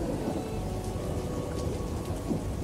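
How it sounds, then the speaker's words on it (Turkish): Steady, heavy rainfall hisses continuously with a low rolling thunder rumble underneath, an even, dense storm bed throughout with no speech over it. "Yağmur yağıyor sicim gibi."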